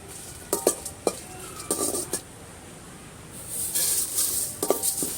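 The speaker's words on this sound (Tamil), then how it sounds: "இப்போ மல்லி, சீரகம், சோம்பு, மிளகு, வரமிளகாய், பட்டை, லவங்கம் இது எல்லாத்தையும் போட்டு வணக்கிக்கிட்டு இருக்காங்க." Whole spices (coriander, cumin, fennel, pepper, dried chilli, cinnamon and cloves) dry-roasted in a clay pot for village-style mutton fry, with scattered close scrapes and clinks of a ladle stirring, brief sizzling rustles between quieter pauses.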